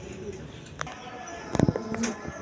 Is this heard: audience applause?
no